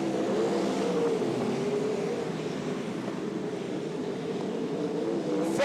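Sprint cars racing around the dirt oval at Archerfield Speedway, a steady loud engine roar with a sustained droning tone that shifts slightly in pitch as the field circulates, continuous throughout.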